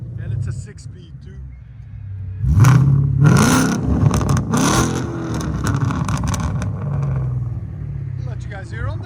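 Ford Mustang GT with a 5.0L V8 and aftermarket exhaust revving in a shop bay, a rising throaty roar peaking mid-clip then settling to a steady rumble, with people talking nearby.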